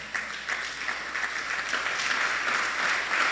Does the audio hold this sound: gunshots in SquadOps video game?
no